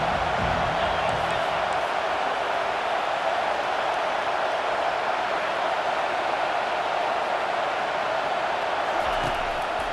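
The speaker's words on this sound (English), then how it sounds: "this crowd trying to help keep them there." A College Football 25 stadium crowd roars steadily throughout a Clemson at Auburn game, a loud, sustained wash of cheering and noise with no break.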